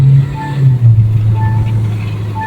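A 2025 Kia Seltos with an automatic gearbox accelerates on the road, its steady engine drone and low rumble heard from inside the cabin with a faint tonal whine.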